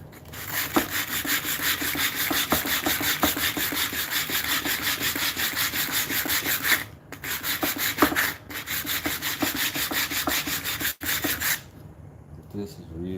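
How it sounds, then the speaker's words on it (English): Lighter-grit sandpaper rubbing steadily over a wooden mallet, a continuous close scratchy hiss in repeated strokes with two brief pauses and a stop near the end. "once I've knocked all the little chips off, I'll come back with a lighter grit"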